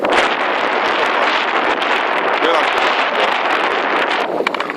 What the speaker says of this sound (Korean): 바람 정말 많이 부는